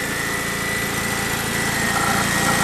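A Simplicity lawn tractor engine runs steadily after being choked, a loud close, even idling drone with a fast regular pulse and no voices.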